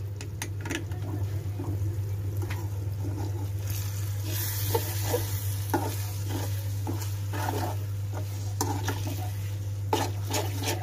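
Three eggs being mixed in a pan on a stove over medium heat, a steady scraping stir with spoon clicks against the pan above a low constant hum.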